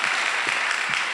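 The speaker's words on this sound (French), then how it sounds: "je voudrais qu'on fasse des applaudissements" Audience applause at an outdoor zouglou concert, a steady broadband patter of many hands clapping for a brief moment, close and even, with no speech over it.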